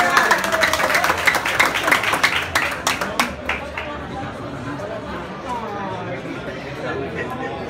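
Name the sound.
audience applause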